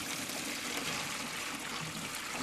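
Water runs steadily into a bucket holding freshly caught fish aboard a fishing trip, a continuous faint trickling wash with no talk.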